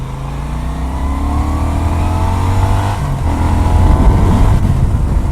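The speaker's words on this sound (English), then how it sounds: "you don't hear the awesome exhaust note that this bike makes" A 2018 Moto Guzzi Audace 1400 motorcycle engine and exhaust running steady and loud up close, its deep throb rising slightly in the final seconds, with no voices.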